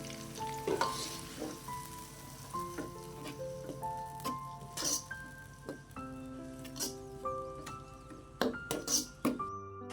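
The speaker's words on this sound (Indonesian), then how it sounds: "Baru deh kita masukin cabai yang kita udah blender tadi ya," Blended chili paste sizzling and frying in a pan while making squid sambal, with steady bubbling crackle, repeated clinks and scrapes of a utensil stirring against the pan, and no talk.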